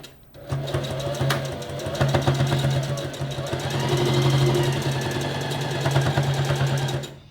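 A sewing machine stitches along the edge of a fabric face covering, running steadily for several seconds with a busy mechanical whir and rapid needle clatter, close and loud, slowing slightly midway before continuing.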